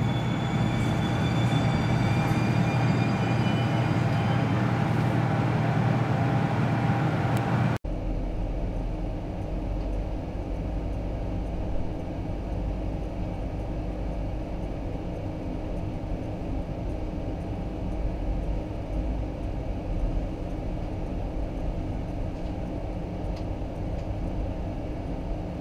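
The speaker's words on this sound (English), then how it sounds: "to Iowa Pacific and their president Ed Ellis, the Hoosier State lives on and is the only Amtrak train to rate a dome car in regular service." Amtrak Hoosier State passenger train with a dome car, a loud close rumble and rolling rail noise with tonal squeals at first, then after a sharp cut a steady lower mechanical drone of the moving train, with no voices.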